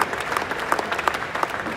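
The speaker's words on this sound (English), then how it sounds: "So a round of applause for Shri Vikram Bhatt." An audience at a national badminton championship press conference applauds steadily, a dense, even patter of many hands clapping throughout at moderate loudness, with no talk over it.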